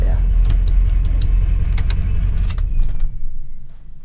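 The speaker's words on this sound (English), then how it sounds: "That fun sound of the turbo coming down there." A 2003 Ford F-350 Super Duty King Ranch with a 6.0 Powerstroke diesel as its turbo spools down, a loud close engine rumble with a faint high whine gradually fading, while people talk over it.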